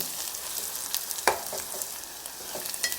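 Ginger garlic paste sizzles steadily in hot oil, a constant crackling hiss with a brief scrape of a spoon partway through.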